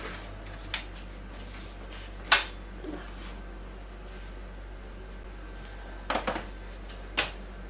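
A gluten-free loaf tin of Doves Farm bread flour dough is lifted out of a home oven, giving a few sharp metallic clinks and knocks, one near the start and a small cluster near the end, over a steady low hum.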